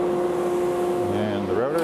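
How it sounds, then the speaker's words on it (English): A dust collector in a woodworking shop spins up with a steady motor hum and a rising whine that shifts pitch toward the end, loud and close, with no talking. "So firing up my dust collector"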